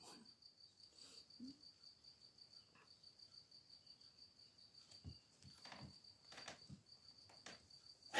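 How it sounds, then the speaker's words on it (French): Crickets chirp steadily outdoors in a continuous high trill, quiet and somewhat distant, with a few brief faint knocks and rustles. "On entend les grillons à tout va, ça chante"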